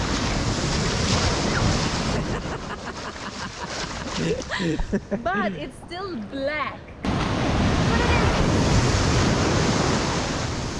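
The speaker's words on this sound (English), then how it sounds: "The waves are really strong here." Strong ocean surf roars continuously at a Gran Canaria beach at night, heavy wave wash and wind buffeting the microphone, easing briefly while people talk over it before the roar surges back.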